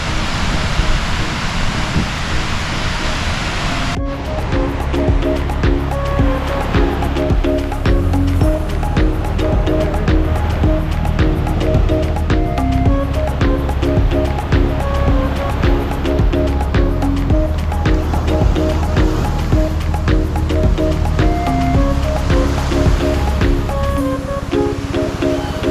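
Ocean waves wash steadily onto the fine white sand of Henderson Beach in Florida. A broad, continuous surf hiss runs the whole way with a steady patterned tonal layer over it, and no clear talk.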